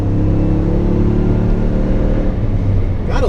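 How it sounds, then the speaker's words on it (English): A supercharged Toyota Tundra pickup accelerating onto a highway, heard from inside the cab as a loud, steady engine drone and road rumble with a high supercharger whine rising over it, and no talk. "Gotta love that supercharger whine."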